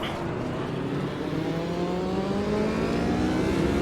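An F1 Gen 02 race car in the video game Automobilista 2 drones steadily at high revs, its engine pitch rising slowly and continuously, loud and alone.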